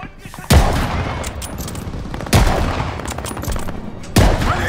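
Call of Duty: Vanguard gunfire, three sharp heavy booming shots spaced about two seconds apart, each followed by crackling rapid fire and echoing battle noise, loud and close.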